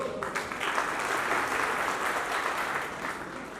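Audience applause at a Hindi poetry recital, a dense, sustained wash of clapping from a crowd, fairly loud and even for several seconds.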